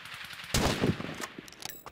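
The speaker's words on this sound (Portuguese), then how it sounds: "Muito tiro." Rapid bursts of automatic gunfire from the survival video game Rust, a dense volley starting abruptly partway in and continuing with scattered shots, fairly loud and close.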